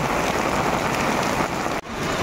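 Steady downpour of heavy rain beside a swollen river at a riverbank, a loud, unbroken hiss of drops that cuts out for an instant near the end before resuming.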